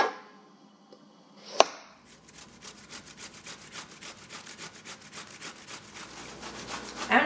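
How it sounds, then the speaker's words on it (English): Zucchini is rubbed against a cheese grater after a sharp knock, a rhythmic series of rasping strokes that grows gradually louder and quicker. "then I'm just going to use a cheese grater to grate it"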